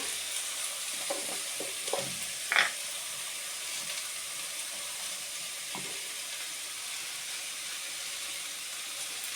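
Cauliflower stalks fry with turmeric and salt in a pan, giving a steady low sizzle and hiss with a few soft stirring scrapes and one brief clatter near the middle, with no voices.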